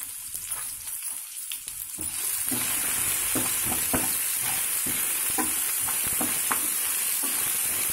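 A potato breakfast mixture with salt and turmeric is stirred in a pan over low heat. A steady soft sizzle runs beneath repeated scraping and stirring strokes.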